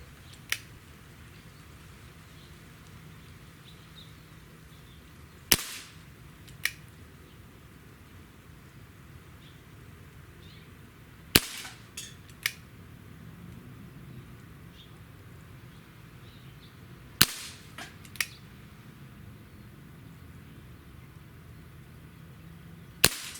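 Webley MKVI 4.5 mm CO2 pistol firing Match pellets, with about five sharp, fairly loud shots spaced several seconds apart over a quiet background, some shots followed by a quick second snap of pellet impact.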